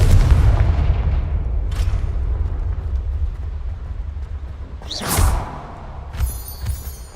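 A Confringo fire spell in Hogwarts Legacy sets off deep rumbling booms with a sharp whooshing blast near the end, followed by a few smaller crackling hits.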